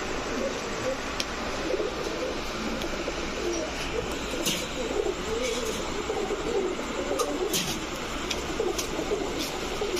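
A pair of large Rajgolla pigeons cooing steadily in a loft, soft low coos repeating over a constant background hum, with light rustling and occasional faint clicks.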